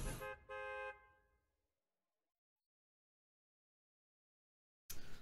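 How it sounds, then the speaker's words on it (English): A bus horn from the Fortnite video game sounds two loud honks, a short blast then a steady held tone, that fade into silence before another loud burst begins at the end. "I heard the bus."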